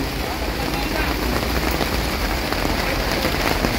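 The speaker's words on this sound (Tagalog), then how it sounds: "Ayan, umulan na naman." Heavy rain pours steadily onto surfaces at a busy market stall, a dense, constant hiss with close drop patter and faint voices beneath it.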